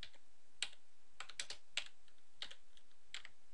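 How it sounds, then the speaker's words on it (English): Keys clack on a computer keyboard in scattered bursts of quick taps with short pauses, close and fairly quiet in a still room while HTML code is typed. "I'm going to start by just typing some HTML into the body of the document."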